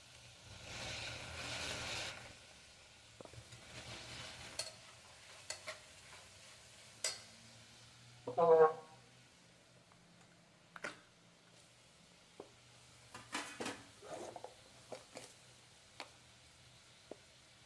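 A spoon stirs peas and chopped beetroot in a pan for pav bhaji. There are scattered scrapes and soft clinks at irregular intervals, plus a brief louder scrape and a faint sizzle, all close and quiet with no voices.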